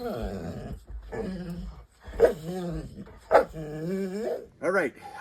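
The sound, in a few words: puppies whimpering and barking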